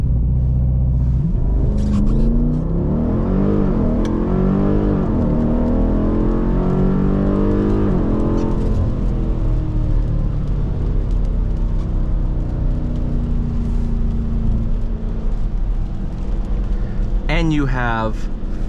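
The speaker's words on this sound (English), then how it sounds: "to enable launch control, all you do, press this button, apply brake pressure, gonna full on the brake, floor the gas" A 2023 Dodge Durango SRT 392 launches hard using launch control, its V8 roaring loudly and climbing through rising revs and gear changes, with a brief tire or shift sound near the end.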